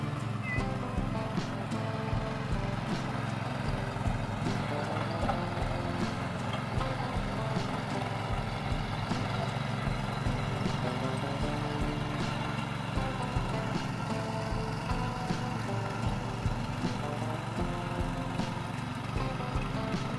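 A tractor with a rotavator works a paddy field in Konkan, its engine and churning blades droning steadily throughout at a moderate distance, with faint voices now and then.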